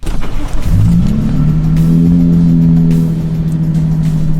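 A V6 truck with an AWE aftermarket exhaust revs up on the road and settles into a loud, steady exhaust drone, recorded close with no talking.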